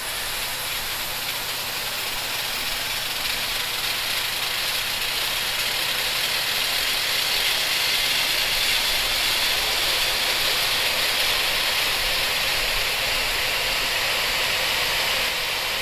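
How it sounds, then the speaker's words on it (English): Small airliner engines spooling up in a Roblox flight game, a steady broadband whine and hiss holding level for the whole stretch, loud and continuous with no talk. "they do make a startup noise, a standby noise, and then a shutting down noise"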